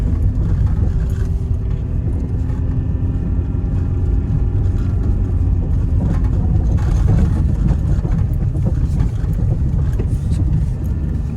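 A diesel vehicle engine drones loudly and steadily under throttle, a low rumbling roar held at near-constant revs and close by, with no voices over it.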